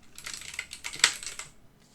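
Fingers tap a computer keyboard in a quick, close burst of clicks lasting under two seconds, with one sharper keystroke in the middle before the typing trails off into quiet.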